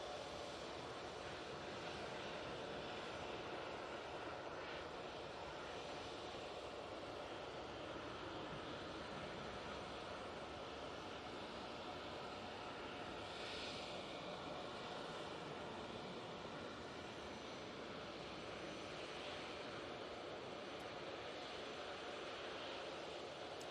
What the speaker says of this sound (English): That's the Qatar Airways 787-9 Dreamliner QR21 coming in from Doha.